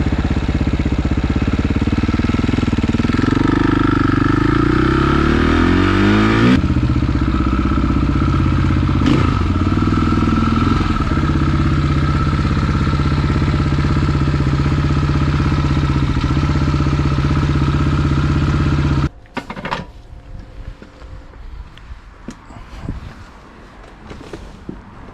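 A Suzuki GS project motorcycle engine idling high and revving, a loud steady close-up drone with a rising rev sweep early on, then cutting off abruptly to quiet rustling and faint clatter.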